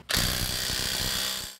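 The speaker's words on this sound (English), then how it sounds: "I have power tools, so I'm not gonna do this by hand." A power tool, likely an impact driver or drill, runs in one continuous loud burst for over a second while tightening the nut on a 2002-2006 Toyota Camry front wheel bearing, then cuts off abruptly.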